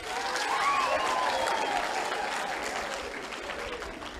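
Sustained applause from an audience at a Kenyan Catholic liturgical music choir competition, a dense steady clatter of many hands that swells early and then slowly fades.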